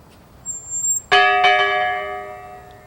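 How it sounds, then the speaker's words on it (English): Church bells at the Iglesia de San Inés in Taos ring out with two clear, resonant strikes whose long ringing tones decay slowly, preceded by faint background noise. "Bells are ringing right now."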